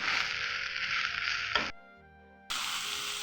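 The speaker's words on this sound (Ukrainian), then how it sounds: "смажимо до тих пір, поки гриби віддадуть, випариться весь сік" Steady sizzling of mushrooms frying in a pan until their juice evaporates, briefly interrupted by a quieter gap with faint clinking before the sizzle resumes.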